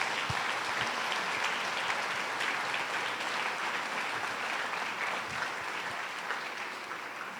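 A church congregation applauding during a Sunday service, a thick, continuous wash of clapping from many people that holds steady and then tapers slightly toward the end.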